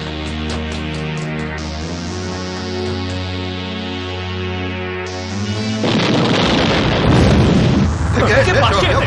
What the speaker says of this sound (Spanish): La explosión que acabáis de oír solo ha sido la primera.